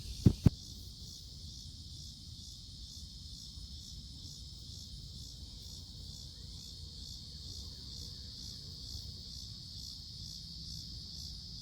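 Insects at a farm: a steady, high continuous trill of crickets fills the whole stretch, faint and even, with a brief tap near the start and a low background rumble.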